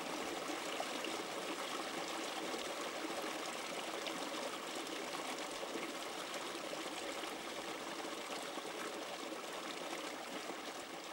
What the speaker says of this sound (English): ये आप देख रहे हैं ना, ये तो मेन स्ट्रीम है नांग विलेज का।